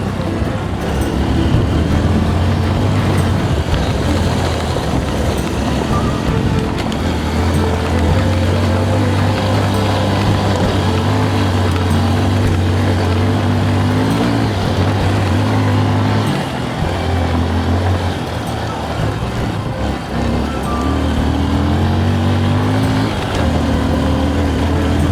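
A motorcycle engine drones steadily throughout, its pitch rising and falling as it labors uphill on a rural road between ravines, with strong wind rumble mixed in.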